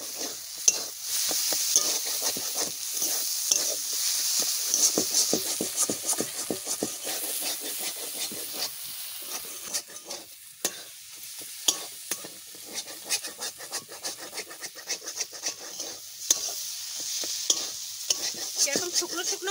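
Spiced potato samosa filling fries and is stirred in a pan, a continuous close sizzle with frequent scraping and clattering stirs throughout.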